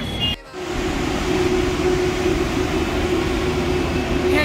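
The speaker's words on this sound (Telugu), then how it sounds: "ఫ్రెండ్స్ ఇప్పుడైతే మేము సికింద్రాబాద్ స్టేషన్కి వచ్చాం" A steady loud rumble of a train with a sustained horn-like tone running through, after a brief dip at the start; busy Secunderabad station ambience.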